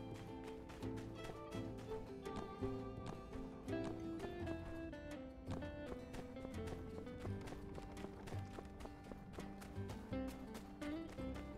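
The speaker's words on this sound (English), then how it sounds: "Let's rent the horse." Horse hooves clip-clopping at a steady running pace in the My Time at Sandrock video game, sitting under a busy layer of game music throughout.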